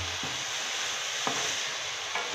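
Cluster beans coated in masala stirred in a hot pan on full flame, a steady close sizzle with a few soft scraping strokes of the spoon across the pan, no voices.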